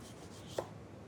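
A knife dices swede into cubes on a board, giving a single short, crisp chop that stands out from a quiet kitchen background.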